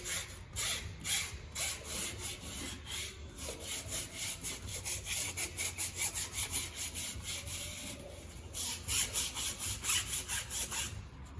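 Sandpaper is rubbed by hand over the raised lettering on a tire sidewall, making a steady, close, rhythmic back-and-forth scraping. The strokes are quick and even and grow a little stronger near the end, with no voices.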